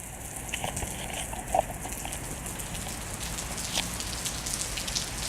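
Steady rain falls outdoors at a concert site, a continuous dense hiss of drops hitting surfaces, with a few louder nearby drips standing out, and no voices.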